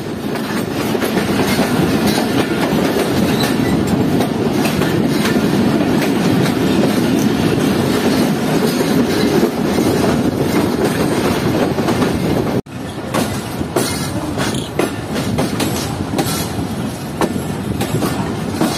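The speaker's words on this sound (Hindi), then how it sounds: "तो ये RG20 जो आप देख रहे हैं, ये इस वक्त शंट कर रहा है 17 अप मिल्लत एक्सप्रेस के रेक को।" An RG20 locomotive shunting the rake of the 17 Up Millat Express, giving a steady loud rumble with rhythmic clickety-clack of wheels over rail joints and faint wheel squeal, continuous throughout.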